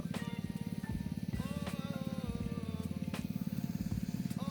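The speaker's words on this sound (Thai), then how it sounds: "คือเราติดจักรแล้วมันจะแล่นละน้ำแล่นตามไปเลย" A small engine driving an irrigation water pump chugs steadily and loudly close by, with a fast, even firing rhythm that never lets up.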